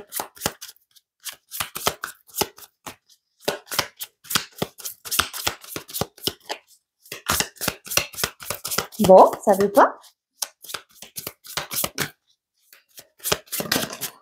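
Tarot cards are shuffled and riffled in a brief burst of papery flutter amid a woman's spoken reading, with speech before and after the shuffle.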